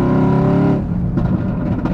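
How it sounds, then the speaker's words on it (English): A Mercedes-AMG GT S engine revs loud and close, holding a rich, throaty tone before the revs drop away after about a second into a lower burble. "Listen to that. I mean, listen to that AMG sound"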